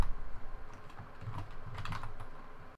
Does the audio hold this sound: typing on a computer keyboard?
yes